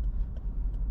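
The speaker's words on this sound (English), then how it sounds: "the car is now running and purring like a little kitten" A car engine idling smoothly after a fueling fix, with a steady low rumble and a soft, even purr throughout, close and alone.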